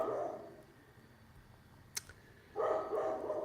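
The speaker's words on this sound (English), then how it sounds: "I'm sure you can all hear my dog." A dog barks in two muffled bursts from some distance, one at the start and another near the end, with a sharp click in the quiet between.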